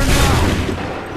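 A musket volley fired in Assassin's Creed 3 erupts as a dense, roaring blast of many guns at once, loud and close, then decays into a rumbling wash of smoke-like noise.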